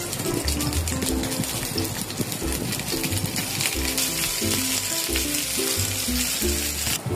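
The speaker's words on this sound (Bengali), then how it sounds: "তেল ঢেলে দিয়ে এখন আমি এটা গরম হয়ে গেলে একটা একটা করে ছেড়ে দিব" Pointed gourd pieces fry in hot oil in a wok, a steady, close, crackling sizzle with busy spitting and occasional light clinks throughout, and no voices.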